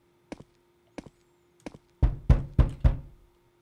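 Knocking on a house door in a SpongeBob horror video game: three faint, widely spaced taps, then four loud, heavy knocks in quick succession, with no voices.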